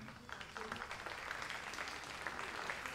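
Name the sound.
applause for Chinese shooters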